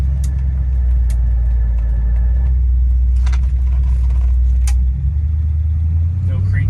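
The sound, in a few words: 1963 Chevrolet Impala driving at 40 mph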